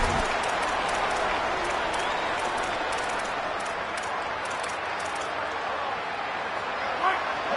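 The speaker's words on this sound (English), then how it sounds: "This crowd rising up, sensing that its defense needs some help." A football stadium crowd at a college game roars steadily in a dense, continuous wash of cheering and noise that holds loud throughout, with no break.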